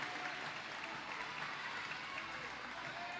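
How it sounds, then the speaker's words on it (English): A crowd cheers and applauds at a junior roller derby championship match in 2019, a steady roar of voices and clapping that holds evenly throughout. "We all cheer for Tyranny"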